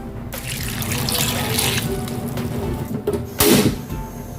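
A glass of water pours into a cooking pot while tamarind candy is being made, a steady close splashing rush that lasts a few seconds and ends in a brief louder splash, with no talking.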